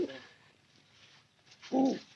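A domestic pigeon in a loft coos twice close by, once briefly at the start and again more loudly near the end, with quiet room noise between the calls.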